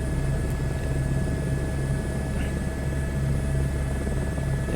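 Helicopter flying over Paris in Microsoft Flight Simulator 2024, a steady rotor and engine drone with a pulsing low throb, constant and fairly loud without any talk.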